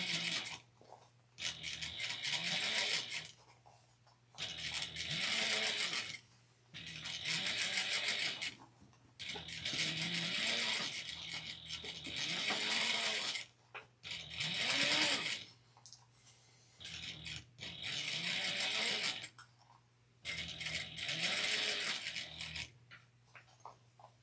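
A sewing machine back-stitches bias tape, running in repeated bursts of rapid mechanical whirring, each a few seconds long, separated by short pauses, close and clear.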